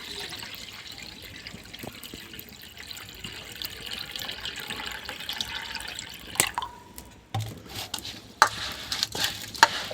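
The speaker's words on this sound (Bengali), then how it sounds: "দুধের চালটাকে এভাবে ভালো করে চটকে চটকে ধুয়ে নিতে হবে" Broken rice rubbed and washed by hand in water, soft wet sloshing and dripping with a few sharper clinks, fairly faint and close.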